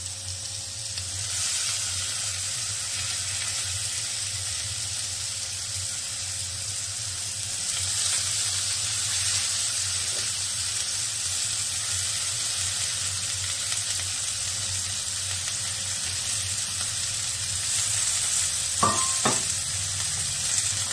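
Soaked, cut ridge gourd goes into a hot frying pan and sizzles with a steady soft crackle. A faint stir and a couple of light clinks come near the end.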